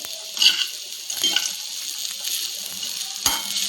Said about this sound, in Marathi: आता आपण शेंगदाणे टाकतोय